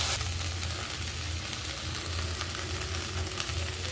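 Fried potatoes with poured-in spices, cardamom, cinnamon and cloves sizzle loudly in a pan while being stirred, a continuous close frying hiss with soft scraping throughout and no talk.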